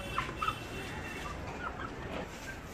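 Faint chicken clucks and short squawks come through a steady background murmur, scattered and soft.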